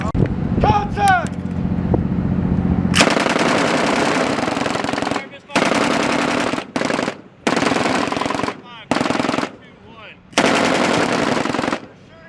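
Bursts of machine-gun fire from a belt-fed weapon on a ship's deck range, loud and close, in several long strings broken by short pauses, with a voice heard before the shooting starts.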